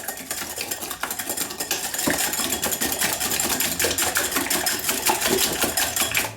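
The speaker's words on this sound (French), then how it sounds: "dans le saladier, je verse mes œufs et le sucre. Là, je fouette comme il faut." Eggs and sugar are whisked briskly in a mixing bowl, close and loud, producing rapid, continuous metallic clinking and scraping in a fast rhythm.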